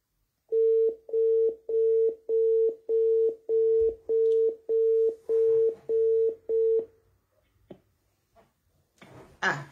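An outgoing phone call to Guinea sounds a ringback tone: about eleven identical steady beeps in an even rhythm, followed by near-silence with faint rustles and a brief noise at the end.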